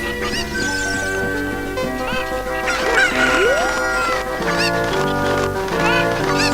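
Cuccos from The Legend of Zelda: Ocarina of Time Master Quest squawk and cluck in repeated bursts over background game music, loud and close, with a rising pitched call midway and no talking.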